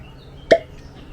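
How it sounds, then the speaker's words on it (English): A cork pulled from a bottle of Old Grand-Dad 114 Single Barrel bourbon, giving one short, sharp, close pop alone in a quiet room. "I love the cork pops on these bad boys."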